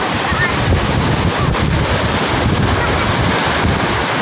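Large waves churn on Manila Bay off Navotas, a constant loud roar of surf mixed with heavy wind buffeting the microphone, steady for the whole stretch.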